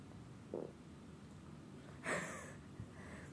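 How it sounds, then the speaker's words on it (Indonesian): A brief, low fart slips out during a birthday-cake mukbang, with a short muffled burst early on and a louder, breathier one a moment later, both faint over a quiet room. "aku kentut"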